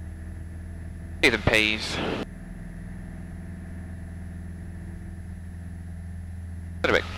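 A light aircraft engine running at full power during night landing practice, a steady droning hum that continues beneath brief voices in the cockpit.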